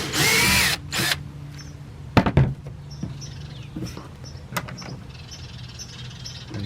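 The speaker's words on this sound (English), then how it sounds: "Drilling out the second hole now." A power drill bores a rivet hole through a kayak hull, with a loud high whine at the start, then sharp bursts of drilling and clicks among quieter handling noises.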